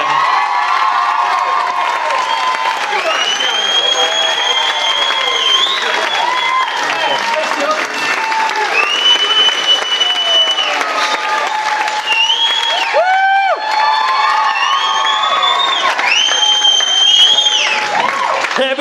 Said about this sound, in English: I want her to have the loudest round of applause of the day.